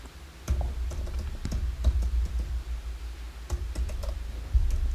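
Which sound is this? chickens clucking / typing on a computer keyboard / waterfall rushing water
typing on a computer keyboard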